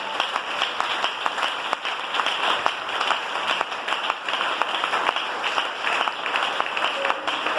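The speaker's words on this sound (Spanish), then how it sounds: "Ese aplauso para el Señor." Congregation applauding for the Lord during an evangelical sermon, dense steady clapping with no break across the whole stretch, close and even in level.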